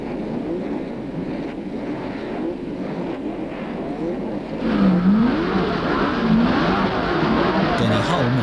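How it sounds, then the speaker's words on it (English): V8-powered sports cars racing at Silverstone, engines droning steadily at a distance with a louder surge of revving as a car draws nearer in the second half, under wind noise. "V8-powered sports cars were becoming popular, and Silverstone was the ideal track to stretch them out."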